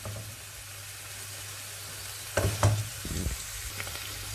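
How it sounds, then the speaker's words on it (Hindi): Vegetables frying slowly over a low flame in a pan for egg fried rice, a soft steady sizzle with a few brief stirring scrapes partway through, close and alone. "ये बहुत स्लो फ्लेम पे मैं बना रही हूँ ताकि हमारी सब्ज़ियाँ जले भी नहीं और फ्राई भी हो जाएं।"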